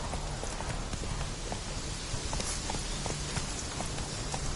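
The horse Roach gallops in The Witcher 3 video game, with steady, rapid hoofbeat clip-clops that keep on throughout and sit fairly quiet in the mix.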